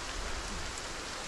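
Steady rain falls in a survival video game, a dense, even hiss of drops on surfaces with no speech over it.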